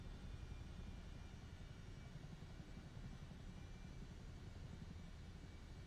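A Chinook helicopter in Microsoft Flight Simulator 2024 flies low outside above a New York City firehouse, giving a steady, dense low rumble that holds at an even loudness throughout, with no voices.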